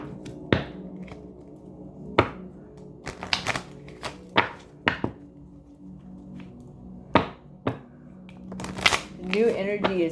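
Number cards being shuffled for a reading, sharp riffling bursts and slaps repeating irregularly across the stretch, close and crisp, alone with no talk.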